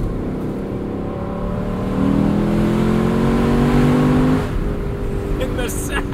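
A 2022 Lexus LC 500 Convertible's engine rises in pitch as the car accelerates, swelling louder midway and then easing off, a clear rising drone heard from inside the car.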